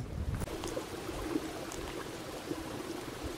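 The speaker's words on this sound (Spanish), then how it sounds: "Vertiente natural, volcán Granadas." Natural spring water trickles and gurgles on the slopes of the Granadas volcano, a faint, steady flow heard close by with no one talking.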